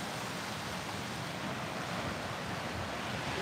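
Ocean surf at Destin Beach rolls in as a steady, loud wash of breaking waves, mixed with wind buffeting the microphone, with no one talking.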